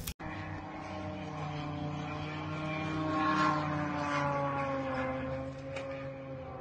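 A Ukrainian Liutyi long-range drone flies over Cheboksary, its engine a steady propeller drone with a droning pitch that slowly bends downward as it passes, loud and sustained after a sharp opening click, with no voices.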